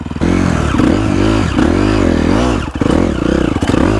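A four-stroke motorcycle at a hill climb near Laxey Mines rolls off the throttle, its engine a loud, close, smooth droning hum that dips and wavers in pitch without any voices.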